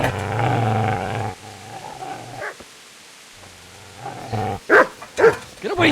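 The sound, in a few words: dog barking and growling in video game Kingdom Come: Deliverance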